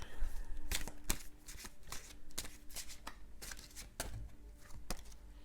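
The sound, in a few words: tarot cards being shuffled and drawn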